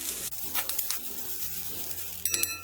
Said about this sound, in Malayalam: നമ്മൾ 1/4 കപ്പ് തേങ്ങ എടുത്തിട്ട് ഈ ചട്ടിയിലേക്ക് ഇട്ട് കൊടുക്കാം.